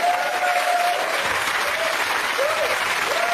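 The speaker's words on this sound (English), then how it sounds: "Give them a round of applause." A television studio audience applauds loudly and steadily throughout, a dense continuous wash of clapping with faint crowd noise and brief tonal sounds underneath.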